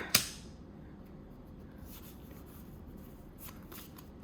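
Cards from an opened Pokémon booster pack are handled and flicked through, starting with a sharp close snap followed by soft, steady shuffling and faint paper rustles.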